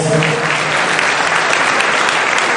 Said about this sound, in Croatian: Molim vas, sve ima jedan veliki aplauz.